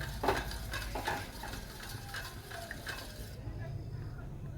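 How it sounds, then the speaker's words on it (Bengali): Milk and eggs are stirred together in a bowl for a quick pudding, with faint, rhythmic scraping and light clinks of a utensil against the bowl over a low background hum. "দুধ ডিম ভালো করে নেড়ে চেড়ে নেব।"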